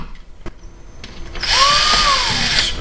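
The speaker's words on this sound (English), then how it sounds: "Screw that in." A power drill drives a screw into a part for a vehicle build, starting after a couple of faint clicks with a loud, close whir whose pitch bends down and back up, then continues steadily.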